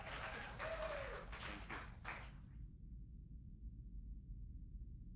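An audience applauds an artist at a show, with a short burst of close clapping and a whoop that stops after about two seconds, leaving near silence.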